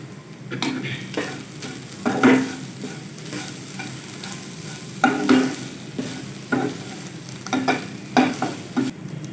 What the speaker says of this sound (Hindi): दोनों चीज़ों को अच्छी तरह मिक्स करेंगे